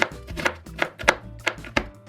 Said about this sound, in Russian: средними кусочками порежу лук